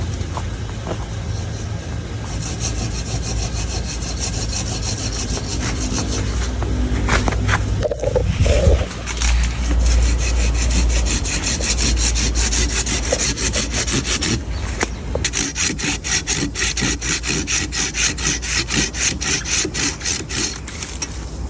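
A handsaw cuts through a tree trunk at a plantation in Jasin, Melaka, loud rhythmic rasping strokes that pause midway, then resume faster and more evenly for a long stretch.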